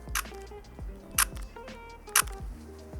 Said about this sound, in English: I hate the shutter sound, but the shutter itself is great, other than the sound.